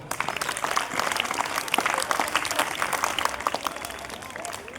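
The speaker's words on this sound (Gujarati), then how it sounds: "એટલે તમારા માટે એકવાર જોરદાર તાળી." Dense, steady applause from a crowd at a school event, many hands clapping loudly and continuously from start to finish with no pause.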